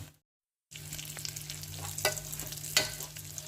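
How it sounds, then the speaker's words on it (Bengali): Rice and lentils frying and being stirred in a pan for khichuri in a Bengali kitchen, a faint steady sizzle after a brief silence, with a couple of sharp scraping stirs near the end. "চাল আর ডাল ভাজা হচ্ছে"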